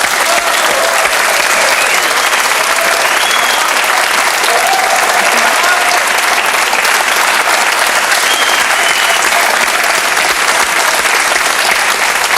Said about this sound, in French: on applaudit Carole Laure